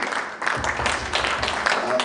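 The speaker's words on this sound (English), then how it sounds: "A round of applause for the 60s." Applause for the 60s at a doctors' workshop at Soroti University, a room of people clapping steadily throughout with voices mixed in under it.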